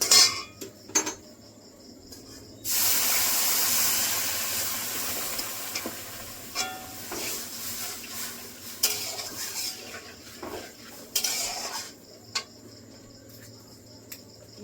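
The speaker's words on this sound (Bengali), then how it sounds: "এখন আমি দিয়ে দেবো জল।" Water poured into a pan of lightly fried jackfruit seeds sets off a loud, hissing sizzle for a few seconds, surrounded by quieter clinks and scrapes of a utensil against the pan.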